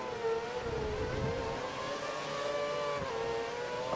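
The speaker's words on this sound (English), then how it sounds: "I'm barely hearing my engine noises." A Formula One car engine, a Caterham, races in the F1 2013 video game, a faint, thin sustained whine that slides in pitch as it revs, heard quietly throughout.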